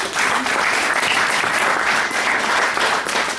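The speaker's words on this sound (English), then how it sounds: "Round of applause, please," Audience at a comic book release party applauding, a steady dense burst of clapping from a small crowd lasting a few seconds, fairly loud and close.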